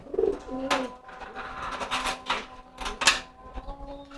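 Resting pigeons, covered to keep them quiet after a herbal tonic, give soft low coos in short repeated phrases, close by, with scattered clicks and rustles between the calls.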